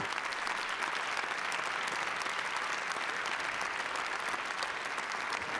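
Audience at a national music awards ceremony applauding, a dense, steady wash of clapping from a large crowd, continuous and even throughout with no voices standing out.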